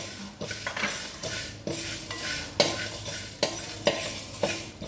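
Dry spices such as cloves, peppercorns, mustard seeds and mace being roasted in a pan, a spoon scraping and stirring in repeated strokes with soft crackle and clinks of metal, close and steady, with no voices.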